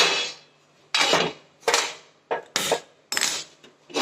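An iron griddle (tava) is set down on a home kitchen stove, making several sharp metallic clanks and scrapes spaced irregularly, close and fairly loud with no talking.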